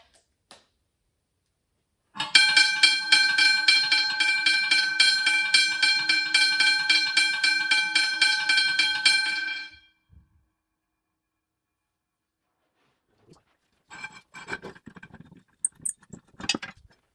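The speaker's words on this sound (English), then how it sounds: "Now I'm going to show you the bell ringing." A first-generation Westinghouse hybrid bell rings loud and steady in a rapid, even rhythm for about seven seconds, then stops; a few faint clicks and knocks follow after a pause.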